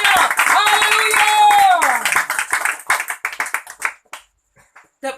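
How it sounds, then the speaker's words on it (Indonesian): A church congregation claps during a Pentecostal-style service. Sharp, close hand claps come in a rhythmic run under loud singing and voices, then thin out into scattered separate claps as the music stops. "Mari berikan tepuk tangan yang paling meriah."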